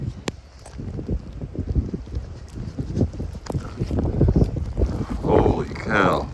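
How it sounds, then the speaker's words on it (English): Strong gusts during a blizzard in New Orleans buffet the microphone in uneven rumbling bursts, loud and close, with a scraping, splashing texture near the end. "It's windy too."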